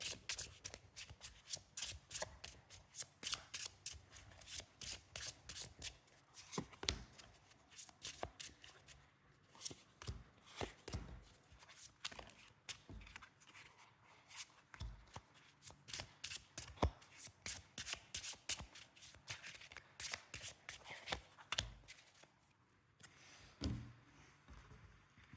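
Nova Sibilla oracle cards are shuffled by hand in close, crisp bursts of riffling and flicking, repeated rhythmically with short pauses between rounds.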